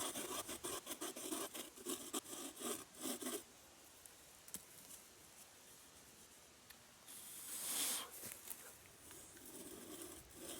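A hand saw cuts wood while building a shear for making natural cordage rope, giving about three seconds of steady, rhythmic rasping strokes up close, then a quiet pause and a shorter burst of scraping.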